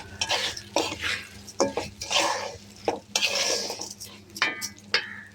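A utensil scrapes and stirs rice with turmeric in a pan for basanti polao, with repeated metallic clinks and soft sizzling in short uneven strokes, close and moderately loud, no talking.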